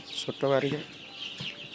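Tiger chicken chicks from a brooding batch cluck in a short burst of stacked, chirpy calls near the middle, followed by a fainter call, close by against a quiet background.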